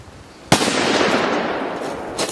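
A Russian Mosin rifle fires at an iPhone sealed in a box: one sharp, loud report followed by a rolling echo that decays over two seconds, heard outdoors with no talking.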